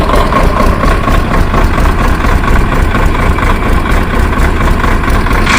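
A Swaraj 855 FE tractor's diesel engine runs at a steady, loud idle close by, with a continuous low rumble and even chugging throughout and no talk.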